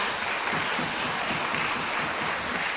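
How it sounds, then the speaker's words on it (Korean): An audience at a Korea-China orchestra's tenth regular concert gives a big round of applause, a dense and continuous wash of clapping that stays steady and fairly loud from start to finish. "큰 박수 부탁드립니다"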